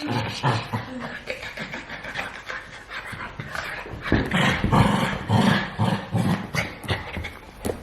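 A dog panting and growling close up, with rough bursts and yips in an uneven rhythm, playful and fairly loud, with a person's voice faint in places.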